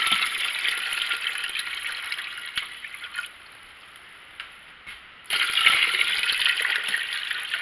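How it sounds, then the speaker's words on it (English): Warm water poured into a canning pot while canning blueberry syrup gives a steady, close splashing gush that drops away for a couple of seconds mid-clip, then resumes strongly. "we're going to start adding more warm water in until we get it to that point"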